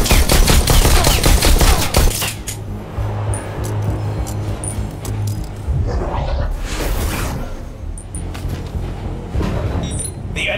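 Rapid gunfire from weapons in the VR shooting game Bullet Train. A dense burst opens the clip, then scattered, quieter shots follow with whooshes and metallic clinks over a steady background.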